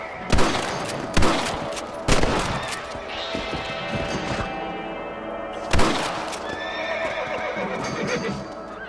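Horses from the Red Dead Redemption video game whinny loudly several times with sharp bursts, over hoof clatter and a busy ambient background, with no talking.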